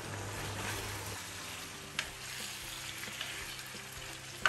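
Chopped bottle gourd is stirred into a pot of chicken curry, giving a soft continuous sizzle with a few light knocks of the spoon against the pot, close and fairly quiet.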